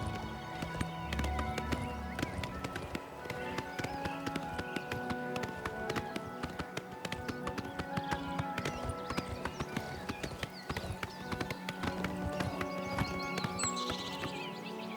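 A horse's hooves clip-clop in a steady, rhythmic walk through the video game The Elder Scrolls IV: Oblivion Remastered, with ambient game music underneath and no speech.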